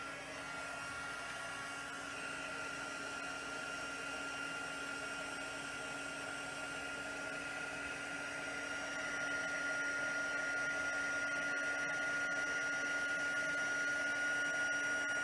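A handheld heating tool blowing hot air gives a steady, close whirring rush with a thin whine riding on top. It runs unbroken and grows slightly louder toward the end, with no voices.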